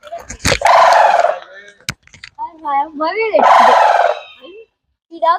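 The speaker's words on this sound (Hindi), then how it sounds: "देखु केमती शब्द करूची विराट बड़ पक्षी" A greater adjutant stork (hargila) at Nandankanan zoo in Bhubaneswar gives loud, harsh honking calls up close, in several bursts separated by short pauses.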